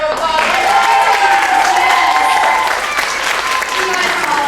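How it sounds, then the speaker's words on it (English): Guests at a surprise 40th birthday roast clapping and cheering loudly and continuously, with voices and shouts mixed into the crowd noise. "Give her a big round of applause."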